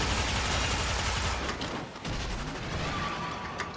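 Warframe combat: dense, loud gunfire and explosive booms roar continuously in a thick game mix, easing briefly near the middle before the barrage picks back up.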